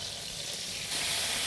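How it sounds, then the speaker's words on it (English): Brisket fat sizzles on a smoker with a steady, soft, bright hiss that swells slightly louder partway through, with no voices. "You hear the fat sizzling"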